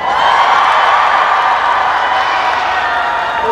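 A big outdoor audience at an autumn moonlight open-air music concert claps and cheers loudly, a dense, steady roar of applause with whoops that fills the whole moment and fades only slightly toward the end.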